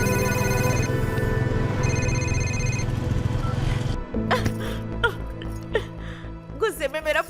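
Phone ringtone for a call that goes unanswered plays in a steady repeating electronic pattern for about four seconds, then stops and voices take over with sobbing sounds.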